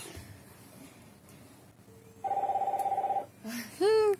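An incoming call ringtone plays from an Esperanza EP129R portable speaker, a steady electronic trill lasting about a second, then a short rising tone, with faint voices and room noise around it.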